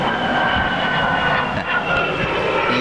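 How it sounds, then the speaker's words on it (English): A fixed-wing airplane passes overhead with a loud, steady engine roar that fills the whole moment, with no talking. "look at the plane."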